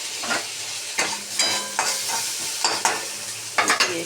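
Cooked rice with lemon juice being stirred and mixed in a pan for South Indian chitranna, a series of scraping, clattering spoon strokes in irregular bursts over a faint sizzle, close and clear.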